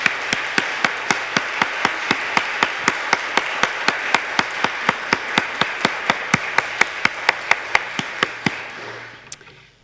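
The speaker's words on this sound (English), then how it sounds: "Folks, give them a round of applause." Congregation applause at a church parish annual meeting, heard as sharp, evenly spaced claps in a steady rhythm, fairly close, lasting several seconds before fading out.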